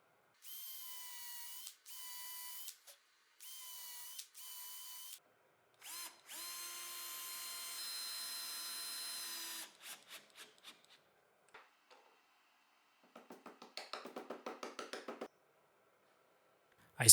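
A power drill drives a nut to fasten a round plywood part on a homemade portable mortiser, in several short bursts followed by a longer steady whir, then a brief rapid ratcheting near the end, close and moderately loud.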